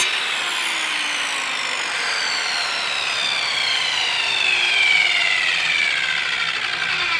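An oscillating multi-tool cuts through a wooden stair baluster during a repair, making a steady, high, buzzing whine that holds at a constant level nearby with no pauses.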